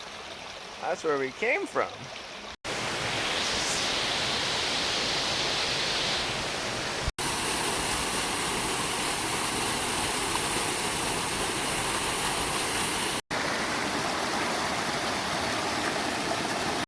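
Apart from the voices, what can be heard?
flowing river where two rivers meet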